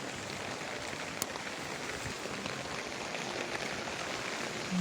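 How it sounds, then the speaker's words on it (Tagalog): Steady, even hiss of rain falling, soft and continuous with no voices, one faint tap partway through. "Kahit umuulan."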